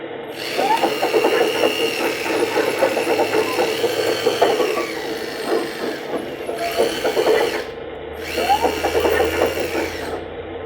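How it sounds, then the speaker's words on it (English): A Kabolite K961 RC hydraulic excavator's add-on sound system plays a continuous simulated engine drone, steady and fairly loud with shifting mechanical whine, alone with no talk. "And that's how the sound system works on the Kabolite."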